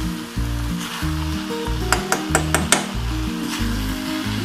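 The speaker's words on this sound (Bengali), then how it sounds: "ঘি দিয়ে এটাকে একটু নাড়াচাড়া করে এবারে আমি এটা নামিয়ে নেব।" Food frying in ghee hisses steadily in a pan while it is stirred, with a short run of sharp spatula clinks against the metal near the middle.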